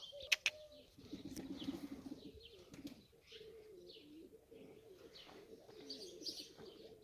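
A pigeon coos softly in a quiet outdoor setting, with a few light chirps and wing flutters.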